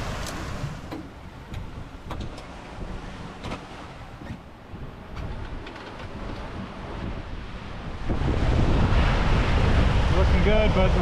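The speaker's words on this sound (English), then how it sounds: "the wind is starting to get up above 20" Strong wind buffets the microphone over rushing ocean waves aboard a sailboat in heavy weather at 40° South, a continuous roar that grows louder and harsher toward the end.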